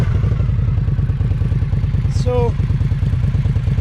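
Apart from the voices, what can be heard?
Indian Scout motorcycle engine idling around 1100 RPM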